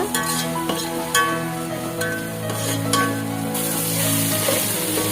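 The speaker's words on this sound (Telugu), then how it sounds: "అప్పుడే కట్ చేసి పెట్టుకున్న టమాటోలు వేసి బాగా మిక్స్ చేయాలన్నమాట." Chopped tomatoes fry in a pan for Kerala biryani, a steady loud sizzle with repeated scraping stirs throughout, no talking.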